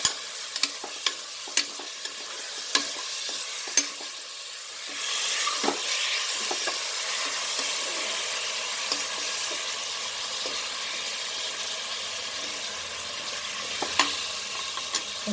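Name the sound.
kidney and liver biryani masala frying and being stirred in a pan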